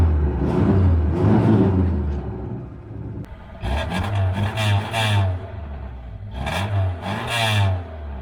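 Old Lada car engine, after standing two days through a rainstorm, is cranked and revved in bursts: a deep rumbling with rising accelerating roars and clattery mechanical noise, loud and close, with no talking.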